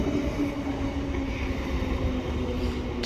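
A two-car train rumbles through East Perth station, with a steady low roll of wheels on rail and a faint, sustained tonal whine, heard at moderate distance without voices.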